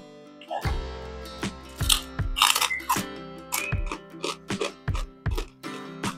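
Crunchy chewing of a nasi kukus meal with thick, rich chicken gulai, eggplant, potato and omelette: a run of loud, close, irregular crisp bites and crunches with short pauses between them.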